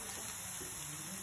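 Curry leaves and ginger garlic paste fry in a pan for a gobi fry, giving a soft, continuous sizzle at low volume with no talking.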